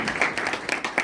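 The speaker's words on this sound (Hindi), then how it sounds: "राम जी के लिए एक बार जोरदार ताली बजाइए।" An audience at a Hindi Diwas literary event claps in a quick burst, with several sharp, fairly close hand claps arriving in an uneven rhythm.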